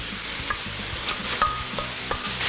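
Pork sizzling in a fairly dry pan for Thai spicy pork salad (laarb), with a steady frying hiss and several sharp scraping stirs of a utensil spaced through the stretch.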